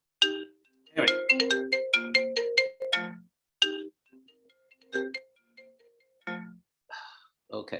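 A mobile phone ringtone plays a bright, repeating electronic melody in quick notes, fairly close and clear. A voice briefly speaks over it.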